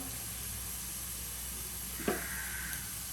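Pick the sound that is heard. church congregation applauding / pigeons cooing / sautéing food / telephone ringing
sautéing food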